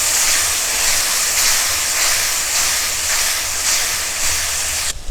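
Mustard and ginger paste sizzling in hot oil in a pan for a fish curry, a steady loud hiss that fills the whole stretch without pause.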